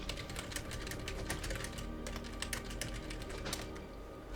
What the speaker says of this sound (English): hopefully that my keyboard's not extremely loud whenever I type